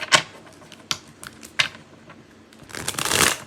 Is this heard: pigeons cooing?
no